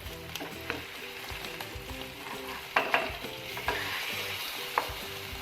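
Chicken pathiri fry in hot oil in a pan with a soft steady sizzle, broken by sharp clinks and scrapes as the pieces are stirred and turned over.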